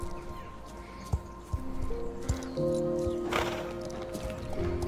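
A horse in a video game snorts and whinnies among scattered hoof thumps, with tonal music notes and ambient game sounds layered underneath, close and fairly loud, with no talk.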